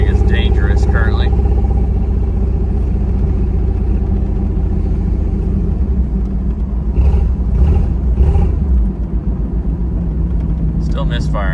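A Jeep XJ engine misfiring while driving gives a loud, uneven rumble and droning cabin noise that stays constant, with someone talking over it at intervals.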